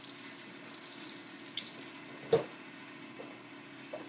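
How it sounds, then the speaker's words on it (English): Sink tap running steadily while hands are washed beneath it, a soft continuous splashing with a few small knocks and splashes, fairly quiet and close. "let me wash my hands"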